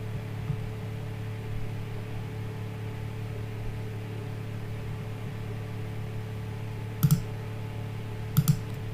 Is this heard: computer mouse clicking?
yes